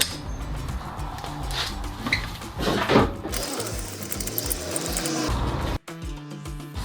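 Locking wheel nut key fitted and turned on a BMW M135i wheel: close metallic clinks and ratcheting clicks from the key and nut, ending with a sharp mechanical clack.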